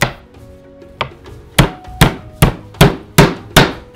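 Garlic cloves chopped with a knife on a board for pizza, seven or eight sharp, close thwacks that start sparse and settle into a steady rhythm, with no voices.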